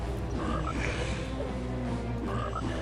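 Frog croaking in a video game: a few short croaks come over a constant background music bed, with no talk over them.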